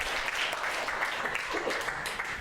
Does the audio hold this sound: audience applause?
yes